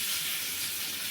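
Spices temper in hot oil for a bitter gourd dish at home, giving a brief, steady hissing sizzle heard up close with no talking.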